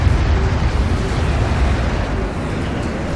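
Continuous heavy combat rumble from the Homeworld: Deserts of Kharak strategy game, with gunfire and explosions pounding an armored vehicle in a dense, loud, low-heavy wash that barely lets up across the few seconds.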